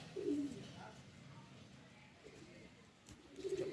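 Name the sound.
pigeons cooing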